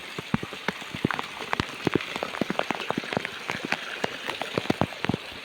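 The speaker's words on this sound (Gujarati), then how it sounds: "પહેલી વાર પીપળામાં વરસાદ પડ્યો છે કે આવો ધોધમાર છે" Heavy rain pours down steadily, with dense drops pattering and splashing on a hard surface throughout, loud and close, with no voices.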